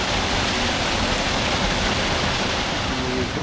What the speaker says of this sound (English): a little waterfall that is spring fed from up in the hills somewhere and runs all year round